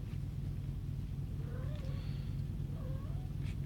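A female cat in heat gives two drawn-out, wavering meows, faint and moderately close over a steady low engine-like rumble, as if inside a moving vehicle.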